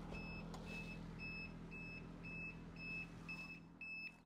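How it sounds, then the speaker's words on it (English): A Toyota LandCruiser reversing beeper in its rear light sounds a steady series of short, high electronic beeps at an even pace, close by over a low vehicle hum. "That beep is extraordinarily annoying."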